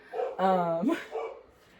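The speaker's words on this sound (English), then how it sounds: "Sorry that my dog is again screaming." A dog lets out a short, high whining yelp up close, followed by a few quieter vocal noises.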